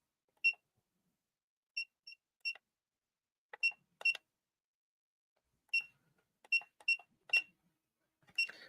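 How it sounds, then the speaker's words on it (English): Short electronic beeps from FPV drone gear being set up with a DJI O4 Air Unit Pro on a Pavo20 Pro, sounding in scattered single and double chirps against near silence. "So right now you hear the beeping."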